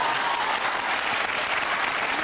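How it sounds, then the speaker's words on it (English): Studio audience at a television talk show clapping steadily, a dense continuous wash of applause holding at even loudness throughout, with no voices over it. "let's go, you can clap for that"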